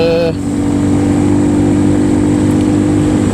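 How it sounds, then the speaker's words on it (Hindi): Heavy road traffic along the Indus river roadside in Pakistan, a loud steady engine drone with passing vehicles close by, heard from a motorbike on the move. "ट्रैफिक काफ़ी हो गया है।"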